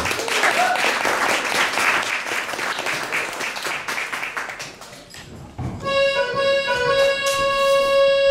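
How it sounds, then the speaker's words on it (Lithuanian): A crowd claps steadily for several seconds, then the applause fades and a sustained tone rings out alone. "Plojimai jai."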